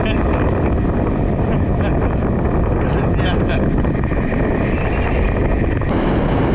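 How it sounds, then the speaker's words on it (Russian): Strong wind roars steadily across the microphone at the seaside in Crimea, a loud continuous buffeting rumble with gusty surges throughout. "Ветер просто не останавливается."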